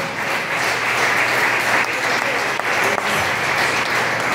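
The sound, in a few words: audience applauding loudly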